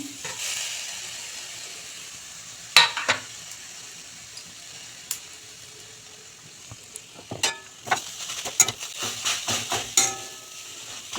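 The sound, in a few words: stirring grated coconut with semolina and jaggery in a pan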